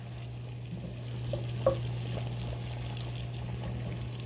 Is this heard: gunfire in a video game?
no